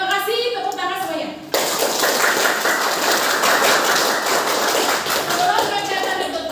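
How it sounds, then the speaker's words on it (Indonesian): A class of children claps their hands together in a classroom lesson, a dense, steady burst of applause starting abruptly after a brief voice and continuing loud and close throughout. "Tepuk tangan semuanya."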